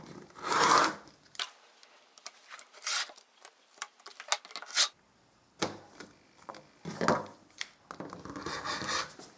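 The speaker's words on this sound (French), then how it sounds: "autour de ce carré, je vais couper le surplus de tissu" Scissors or a cutter rasp through surplus quilting fabric around a 20 cm square in short scraping bursts separated by quiet gaps, close and fairly soft.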